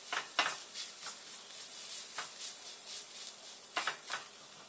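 Red curry paste browns in a hot pan with a soft, steady sizzle, broken by several sharp scraping stirs of a utensil against the pan.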